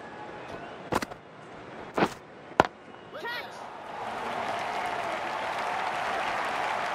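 Crowd applause rises in the Don Bradman Cricket 14 video game: a few sharp bat-and-ball knocks come first, then a steady wash of clapping and cheering swells and holds, moderately loud.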